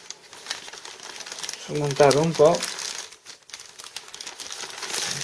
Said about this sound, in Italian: per proteggere questo fungo con un sacchetto di nylon tagliato, questo di metterlo qua intorno al tronco